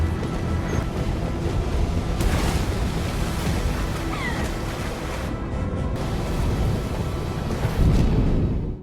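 A film storm at sea roars with continuous loud wind and crashing waves around a boat, a dense, unbroken wash of noise that swells again near the end.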